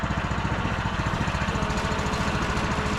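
A T-18s tractor engine runs steadily up close on a rainy autumn day, a continuous rhythmic chugging with no talking over it.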